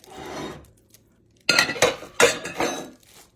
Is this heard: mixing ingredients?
yes